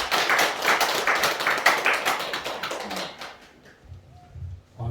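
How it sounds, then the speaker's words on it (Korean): Audience at a meditation course lecture in a temple claps for the lecturer, a lively burst of close clapping for about three seconds that fades into quiet room sounds and faint shuffling. "박수 한번 주세요"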